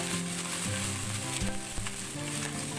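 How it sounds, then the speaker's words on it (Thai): Garlic and shrimp frying in a large amount of oil, a loud, dense, continuous sizzle close up with faint stirring scrapes and no talking. "น้ำมันลงไปนะครับมันต้องเยอะมาก กระเทียม ไปเจียวกุ้งก่อนนะครับ"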